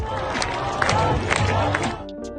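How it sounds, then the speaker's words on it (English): Crowd of protesters gathered in a Tehran square at night, cheering and clapping, a loud, near roar of many voices with shouts and claps over it, easing off briefly at the end. "thousands of protesters gathering in Tehran's Punak Square, with the sounds of cheering and clapping filling the night air."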